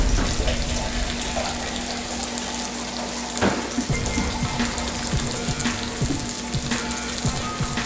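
Water poured into a frying pan of Jamaican-style brown stew chicken with onions, a steady splashing rush over a low sizzle, close and continuous with no talking.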